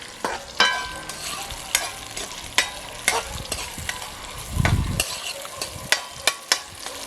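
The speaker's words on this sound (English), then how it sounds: "Cook them little veg a little bit" Vegetables frying and being stirred in a pot while cooking outdoors in a backyard, with intermittent sharp scraping clicks of the utensil and a low sizzling bed rising into a louder burst of frying near the end; no talking.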